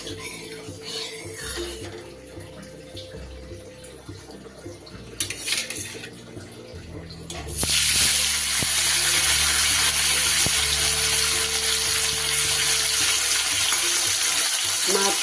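Fish sizzling loudly in hot mustard oil, a sudden bright frying hiss that starts partway through after quieter kitchen clatter and stays steady and close to the end.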